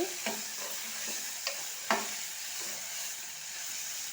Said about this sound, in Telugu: ఇది కలర్ వచ్చేదాకా గోలిస్తూనే ఉంటారండి